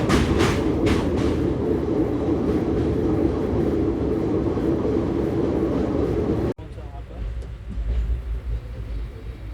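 The Narsapur–Lingampalli express runs on steadily with a loud, continuous rolling rumble and rhythmic clatter heard from on board, then the sound shifts abruptly to a quieter, muffled rumble partway through.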